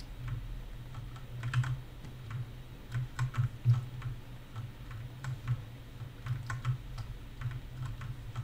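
A mechanical keyboard clacks with steady, irregular typing bursts throughout, fairly close and moderately loud, with no speech over it.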